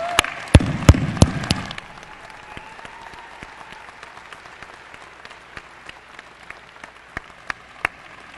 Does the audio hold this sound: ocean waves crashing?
no